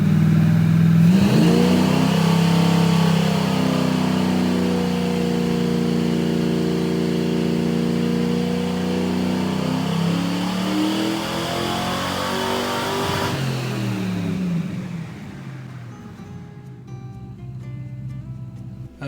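A car engine on a dyno revs hard at 34 degrees of ignition timing on a Sniper fuel-injection setup with a Hyperspark ignition. One long loud pull climbs steadily in pitch, then cuts off and drops to a lower rumble near the end.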